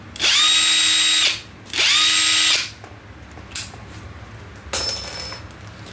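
A Panasonic cordless screwdriver runs in two strong, steady bursts of about a second each, separated by a short pause. A few faint clicks follow, then a brief, quieter whirring burst near the end.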